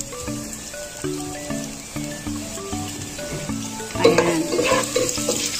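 Garlic and onion sautéing in a pan for pork kaldereta: a light frying sizzle with stirring scrapes under soft background music, growing louder and busier near the end as the onion goes in; one brief spoken word.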